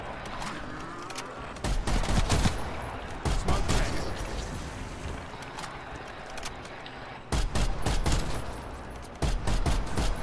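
LMG fire in Call of Duty: Black Ops Cold War zombies outbreak mode, long loud sustained bursts of automatic shooting repeating across the stretch, close and dominant over the game ambience.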